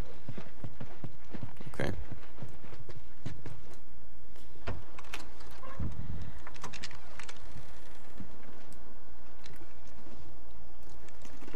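Horse hooves clip-clop in scattered steps in The Last of Us, with thuds, gear rattles and ambient game sounds around them, and a voice briefly speaks.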